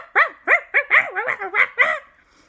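A dog barks in a quick run of about eight yelping, wavering barks, close and loud with no talk, standing in for a ghost dog character in a children's undersea story.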